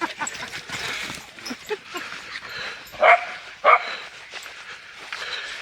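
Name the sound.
dog barking and whimpering by a canal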